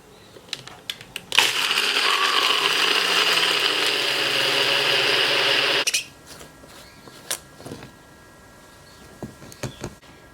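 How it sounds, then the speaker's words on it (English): A blender whirs loudly and steadily for about four seconds, blending milk and ice for a coffee drink, then cuts off, leaving quiet clinks and small kitchen noises. "In the blender it goes."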